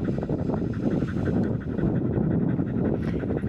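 A dog pants rapidly and close, quick rhythmic breaths continuing steadily against a low rumbling background on a mountainside before a paragliding launch.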